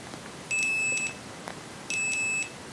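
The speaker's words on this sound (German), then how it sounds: "erst dann piepst es." Two short, high electronic beeps from a Lidl multimeter's continuity test sound about a second apart, with a faint click between them in a quiet room.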